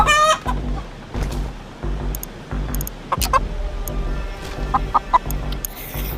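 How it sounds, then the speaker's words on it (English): Rooster clucks and short calls from a VR rooster-fighting game come in repeated bursts over a rhythmic low thumping background, with scattered sharp game effects. "I'm going rooster fighting."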